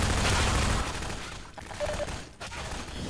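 Sustained gunfire from the Half-Life 2 mod Silent Escape, a dense, noisy barrage that is loud at first and then tapers into scattered, rougher bursts and a few quieter shots.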